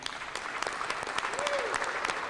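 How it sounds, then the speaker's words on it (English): An audience applauds a mariachi band from Arlington South, a steady crowd clapping throughout with a faint voice briefly heard underneath. "I think that the mariachi band from Arlington South deserves a round of applause, don't you?"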